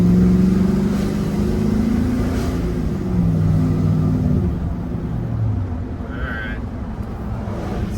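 An old, cheap pickup truck engine idles and burbles through its muffler, a close, loud, steady low rumble with slight shifts in pitch, and someone talks over it in places.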